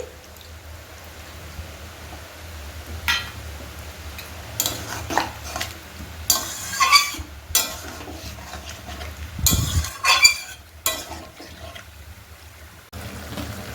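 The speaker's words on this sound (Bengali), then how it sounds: "আমি এর মধ্যে সামান্য করে অল্প জল দিয়ে দিচ্ছি" Pre-boiled potatoes in a cooking pan with a little water poured in, giving scattered splashes, clinks of a utensil against the pan and stirring scrapes, louder bursts in the middle, no talking.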